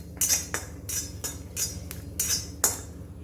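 A spoon scrapes and taps rhythmically against a kadhai pan while garlic and chillies are stirred, producing about five bright metallic strokes at a steady pace over low background noise.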